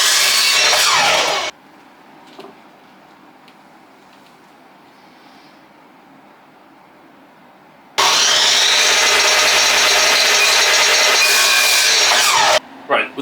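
A saw cuts the end off a 28mm wooden dowel in two loud, continuous bursts of rasping strokes separated by a quiet pause, close up and with no talk.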